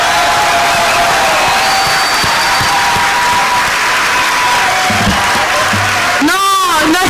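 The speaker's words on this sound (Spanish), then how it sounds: "Un fuerte aplauso para ellos dos." A university lecture audience in Argentina bursts into loud, sustained applause filling the whole room, a few whistles and cheers rising near the end.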